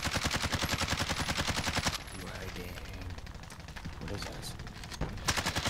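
Rapid automatic gunfire aimed at a target in Call of Duty, loud and sustained in dense bursts, then easing into scattered shots and background battle noise while players talk.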